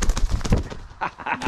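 A hen on a hobby farm gives a few short, close clucks and coos in quick bursts, with some rustling around them.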